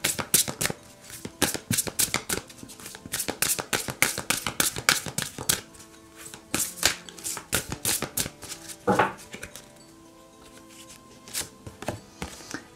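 Oracle cards of an inner-vision deck being shuffled by hand, a dense run of rapid crisp card slaps and flicks, close and loud, with a short slide and a brief pause before the shuffling picks up again.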